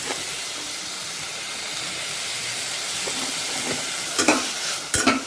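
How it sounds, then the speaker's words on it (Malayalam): Tomato, onion, cashews, raisins, curry leaves and mint fry in ghee with a steady, close sizzle and hiss, a few sharp utensil scrapes and clinks breaking in near the end. "ടൊമാറ്റോ, സവാള, അണ്ടിപ്പരിപ്പ്, മുന്തിരിങ്ങ ഇതെല്ലാം, കരിവേപ്പില, പുതിനയില ഇതെല്ലാം നെയ്യിലിട്ട് വറുക്കണം."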